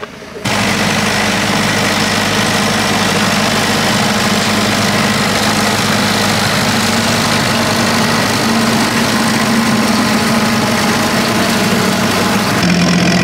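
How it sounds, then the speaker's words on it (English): A small engine runs steadily and close by, with a constant low idling drone and vibration that holds nearly unchanged for the whole stretch. "it is quite a struggle for the little tractor"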